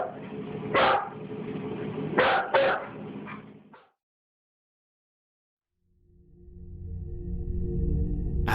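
A dog's sharp barks come in a few short bursts over a steady rumbling background, followed by silence and then a swelling low rumble.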